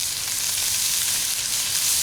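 Bright, crackling sizzle of bacon frying in a hot pan, steady and close, with no voices.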